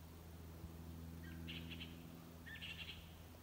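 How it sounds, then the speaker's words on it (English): Birds call in a quiet woodland, two brief high chirping bursts rising faintly over a steady low hum, with no one talking. "You can hear all the birds."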